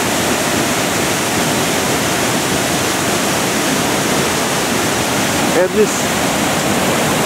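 Steady, loud roar of a curving waterfall plunge fills the scene continuously, with a brief spoken remark near the end over the rushing water.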